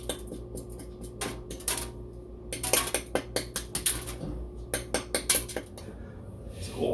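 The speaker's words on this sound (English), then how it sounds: "I got this big metal spoon. I use it for brewing mainly, but I'll take this and just bust those tops off the ice." A big metal brewing spoon knocks and cracks the tops off ice balls, producing a run of sharp, close metallic clinks and knocks in uneven bursts over a low steady background hum.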